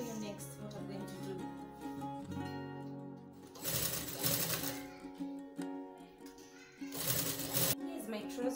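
A sewing machine stitches blazer fabric in two loud runs of rapid mechanical chatter, with softer handling noises and music-like tones between them.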